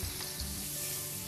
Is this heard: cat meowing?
no